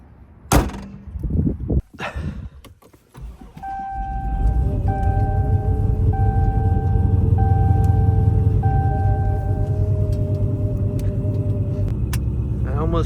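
A Dodge Hellcat heard from inside while driving around the city at night: a few clunks and thumps, then a steady low engine rumble under repeating electronic chime tones.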